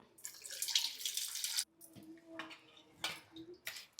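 Broken sorghum grits are washed in water, with close sloshing and swishing in several bursts separated by short pauses.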